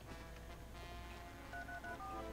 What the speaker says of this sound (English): I like the tone on the phone.